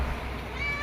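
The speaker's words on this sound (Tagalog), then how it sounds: "Stray cat" A stray cat waiting outside for food gives a brief meow that rises near the end, set against a dense, noisy household background.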